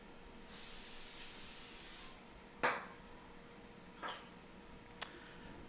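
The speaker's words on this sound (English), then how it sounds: "we're going to spray our eggplant with a little bit of Pam to kind of help with the crispness on the breading." Pam cooking spray hisses onto breaded eggplant slices in one steady burst of about a second and a half, followed by a few soft clicks and taps as the pieces are handled.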